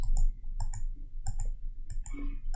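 Keyboard keys are pressed on a computer during a CorelDRAW graphic design session, giving a series of sharp, close clicks in an irregular rhythm with low background hum and no talking.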